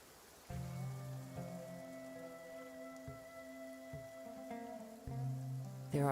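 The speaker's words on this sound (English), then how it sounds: "Taking a stroll in the middle of a downpour certainly rouses the spirit." Steady rain patters in Genshin Impact over a constant backdrop of sustained synthetic tones, with a brighter burst near the end.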